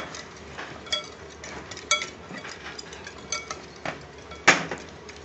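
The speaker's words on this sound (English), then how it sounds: "Mix all the ingredients up." Paneer tikka masala ingredients stirred together in a bowl, giving a steady run of soft scraping and clinking of utensil against the bowl, with a few sharper knocks, close and moderately quiet, without speech.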